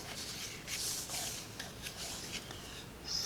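Card paper is cut with a paper trimmer in short, soft scraping strokes, a series of quiet rasping slides near the microphone, ending with a brief sharper cut.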